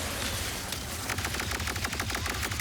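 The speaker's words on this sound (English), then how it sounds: "Keep firing, keep firing, keep firing, keep firing." Rapid gunfire in the Ratchet and Clank Rift Apart video game, a fast rhythmic stream of sharp shots that grows denser toward the end, moderately loud with no talk.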